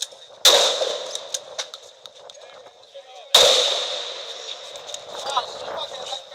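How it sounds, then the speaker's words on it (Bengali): Two sharp, loud gunshots about three seconds apart, fired by police at students during the quota movement protest at Chankharpul, Dhaka, each followed by a lingering echo over a noisy crowd background with distant shouting. "ম্যাগজিনের পর ম্যাগজিনের গুলি চলে শিক্ষার্থীদের উপর।"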